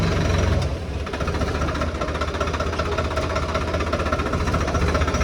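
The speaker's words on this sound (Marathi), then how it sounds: "मोटर हा ये." A tractor motor runs steadily at close range, a loud continuous knocking drone with a slight dip near the start, no talking over it.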